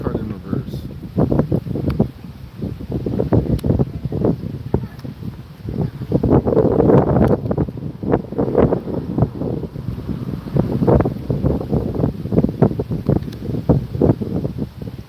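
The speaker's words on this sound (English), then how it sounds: "it's way too windy out here" Strong outdoor wind buffets the microphone in heavy irregular gusts, loud and close, while a person talks throughout.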